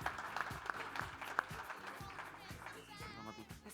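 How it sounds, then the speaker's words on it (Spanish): An audience at a panel on cybersecurity and AI breaks into applause, scattered claps sounding under ongoing speech and background voices and tapering off toward the end. "Así que un aplauso, por favor,"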